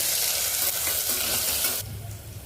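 Green chilies and onion frying in hot oil in a pan: a loud, dense, continuous sizzle that eases slightly near the end, with faint stirring underneath and no talking.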